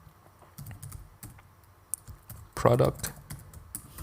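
Computer keyboard keys clatter in short irregular taps, ending in a louder burst of keystrokes, with a voice speaking briefly over the typing.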